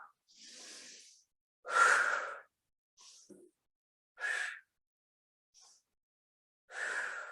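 Several audible breaths out during a Pilates exercise, soft and close, in irregular bursts separated by silence, with a sharper gasp-like exhale among them.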